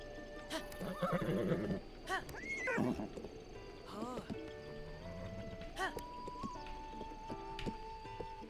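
A horse neighs and whinnies in Zelda: Breath of the Wild, several loud rising calls over clip-clopping hooves and ambient game music.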